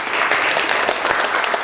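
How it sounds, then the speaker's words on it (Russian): Brief burst of audience applause at a public community assembly, close dense clapping that stays steady throughout with no talk. "Аплодисменты."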